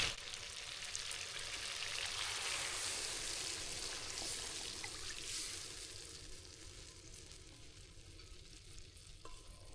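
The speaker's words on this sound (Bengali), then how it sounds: "এখন আমি পানি দিয়ে দিব" Water is poured into a pan of fish curry after the fish has been thoroughly fried down, giving a steady bubbling sizzle that softens gradually over several seconds, close up, with no talking.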